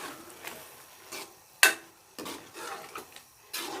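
A spoon stirs chopped fresh coriander through pumpkin and chana dal in a cooking pot, giving soft scraping strokes and one sharper metallic clink against the pot, fairly quiet and close with no talking.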